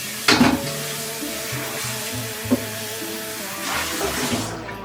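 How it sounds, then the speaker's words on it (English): Water is thrown into a hot pan on the stove for a quick rinse, giving a sharp hiss that settles into steady sizzling and bubbling, close and continuous, with a small clink midway and no talk. "Everything's nice and hot. Turn up the heat on this one. Throw some water in that real quick to give it a quick rinse."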